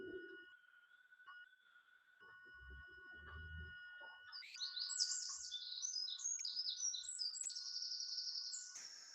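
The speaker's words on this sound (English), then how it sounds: "Hear these lovely birds singing." Birds sing outdoors, starting with a few scattered chirps and then breaking into a bright, busy run of whistled trills that carries on steadily, fairly close and clear against a quiet background.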